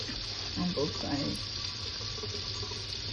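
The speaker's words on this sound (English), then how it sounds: "I'm just gonna let like water kind of rinse them" A kitchen tap pours a steady, hissing stream of water to rinse raw pork chops, running continuously beneath a person talking casually.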